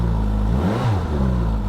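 A brand-new 2022 Suzuki GSX-S1000GT motorcycle engine running steadily while warming up, a loud, close, continuous hum with a brief rise and fall in pitch midway.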